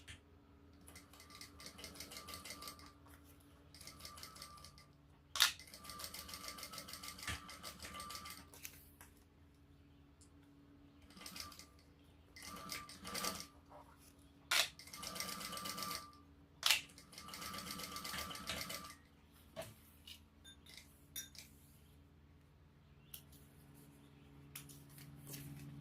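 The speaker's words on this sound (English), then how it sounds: "we'll sew that at the seam allowance, and then flip it and top stitch" A domestic sewing machine stitching the seam of a petite shoulder bag, its rapid mechanical stitching coming in several bursts separated by pauses and handling noises, fairly quiet with no talking.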